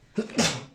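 A single sneeze, close and short, starting with a quick sharp intake and ending in a breathy burst.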